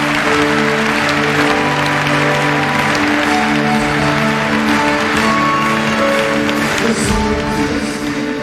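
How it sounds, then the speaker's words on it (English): Audience applause at the East Coast Music Awards broadcast, dense sustained clapping from a large crowd filling the whole stretch, with music tones underneath. "Clap your hands, please."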